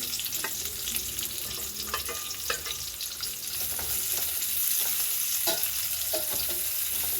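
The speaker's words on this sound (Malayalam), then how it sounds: "പനീർ ഫ്രൈ ചെയ്ത അതേ എണ്ണയിലേക്ക് ഒരു ഒരു ടീസ്പൂൺ എണ്ണയും കൂടെ ഒഴിച്ചിട്ടുണ്ട് അതിലേക്ക് നമുക്ക് ഒരു സവാള നീളത്തിലരിഞ്ഞത്" Sliced onion frying in leftover paneer oil topped up with a teaspoon of fresh oil, a busy crackling sizzle with repeated stirring scrapes and clacks of a spatula against the pan, close and steady.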